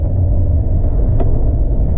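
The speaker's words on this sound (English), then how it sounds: "So doing about 35, 40 there, get on the brakes kind of hard." A 1967 Buick Skylark driving at about 35 to 40 mph and braking hard. A loud, steady interior road rumble and engine drone with a couple of brief sharp clicks.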